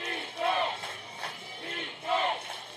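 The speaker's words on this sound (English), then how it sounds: "You hear the crowd getting hyped up" A home-crowd of fans at a homecoming varsity football game roars and builds in waves, with loud swelling shouts rising and falling over a steady stadium din.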